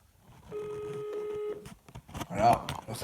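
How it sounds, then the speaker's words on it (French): Steady electronic telephone tones ring out for about a second, a sustained layered beep, followed by a short burst of keypad-like chirps and then people talking nearby. "Maintenant, on va voir des sonneries de téléphone."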